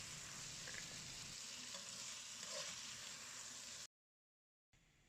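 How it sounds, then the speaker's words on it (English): Beef steaks stir-fry with ginger in hot oil, giving a dense, continuous sizzle with faint stirring scrapes. The sound cuts out completely for most of a second near the end, then the frying resumes. "Stir fry till you don't see pink color on the surface of the steaks"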